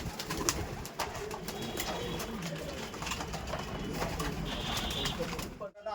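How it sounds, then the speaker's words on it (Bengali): Madras pigeons in a loft coo and call continuously over a dense bed of nearby flock noise and rustling, with soft bird vocalizations layered throughout until an abrupt cutoff near the end. "চলুন এই পর্বে তার সাথে ম্যাড্রাস পায়রা দেখাতে চলছি"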